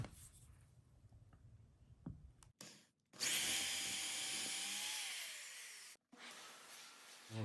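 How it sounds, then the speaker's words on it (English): A loud power drill with a 1/8 inch bit whirs steadily for about three seconds into a hardwood floor, its pitch sagging as the bit bites, after quieter handling noises. "I'm going to start here with the 1/8 inch drill bit"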